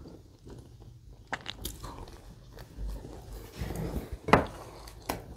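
Close-up bites and chewing of assorted bakery breads such as pizza bread and strawberry cake, soft crunches and moist mastication in an irregular rhythm, one sharp crunchy bite standing out, no talking.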